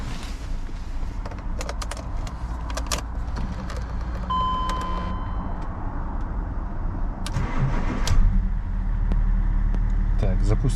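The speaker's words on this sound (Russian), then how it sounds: "Запускаем машину." A BMW X5 E53 cranks and starts, then idles steadily with a low engine rumble, along with faint clicks and a brief electronic tone during the start.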